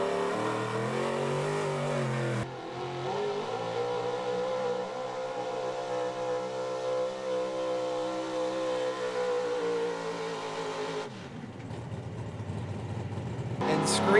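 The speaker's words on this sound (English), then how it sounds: "This is one of the loudest big block engines in the class." At a truck and tractor pull, a big-block pulling truck engine roars in a long, loud, sustained rev, its pitch climbing and holding for several seconds before dropping off sharply.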